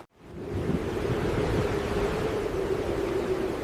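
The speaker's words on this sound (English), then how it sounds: "Small, choppy waves slapped aggressively against the stone cliffs." Small, choppy waves wash against stone cliffs, making a dense, steady rush of surf noise that swells in quickly and holds loud and close throughout.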